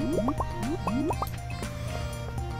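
Watering plants in the farming game Stardew Valley, with several quick rising bubbly water-pour chirps in rapid bursts over steady game background music, close and moderately loud.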